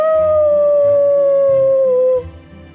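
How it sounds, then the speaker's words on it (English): A white dog howls in the game Fate/Grand Order, one long sustained wavering howl that holds loud and steady, then cuts off and leaves a quieter low rumble beneath. "The white dog howled with all its might, the sound reverberating far throughout the city."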